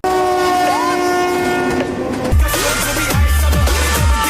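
A train from an Indian film blasts a loud, sustained multi-tone horn, then clatters past with rhythmic rail clacks and a heavy rumble close by.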